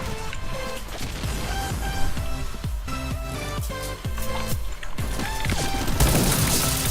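A grenade bursts in the shooter game Point Blank, a loud, broad blast near the end that follows a busy stretch of clattering impacts and thuds over a tonal game soundtrack.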